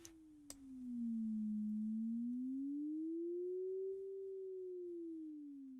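A pure sine tone with a vibrato effect glides slowly down and back up in pitch in one smooth, wide wave, steady and moderately loud, after a couple of faint clicks at the start.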